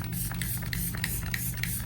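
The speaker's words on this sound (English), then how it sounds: "And I give her a good spray." Grip on Lock setting spray mists onto a face during a makeup routine, a close, continuous fine hiss with soft crackly texture running the whole time.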